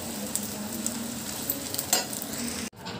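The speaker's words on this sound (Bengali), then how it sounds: "এবার বক ফুলের বড়া ভাজছি" Agati flower (bakphool) fritters frying in hot oil in a Bengali home kitchen during Saraswati puja cooking: a steady, close sizzle with faint crackles that cuts out abruptly near the end, then resumes.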